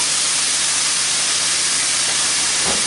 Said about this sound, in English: If it stops sizzling, you're braising